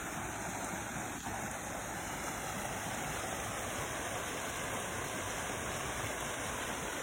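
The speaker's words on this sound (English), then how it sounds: "Oh, the sound of that rushing water just" Rushing creek water where Sugar Creek and Bear Creek meet at Slippery Rock roars in a steady, close, unbroken wash throughout, with no voices over it.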